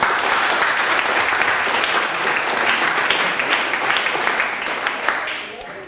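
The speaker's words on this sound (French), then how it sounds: "je pense qu'on peut l'applaudir" Sustained, loud audience applause at a mock trial of the French Revolution held in Pré Saint Gervais, a thick continuous roar of clapping that eases slightly toward the end, with voices mixed into the crowd.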